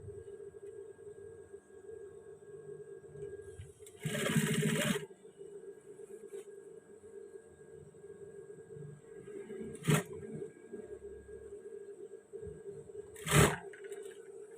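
A sewing machine stitching the thigh seams of trousers runs in three short bursts, the first longer and the others brief, between stretches of quiet background hum.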